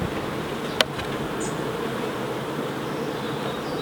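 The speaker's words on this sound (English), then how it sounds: "So the main bulk of the bees are here." Honeybees crowd a hive colonised by a swarm, their faint, steady buzzing hum continuous and close, broken by one brief sharp click early on.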